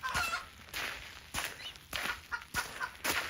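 Chickens on a farm, watched over by a boy, cluck and squawk in short repeated bursts close by, with a few brief flutters and no talking.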